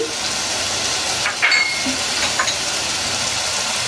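Chopped tomato hitting a hot pan of frying fish masala for katla bhuna: a loud, steady sizzle with brief stirring scrapes and a light clink.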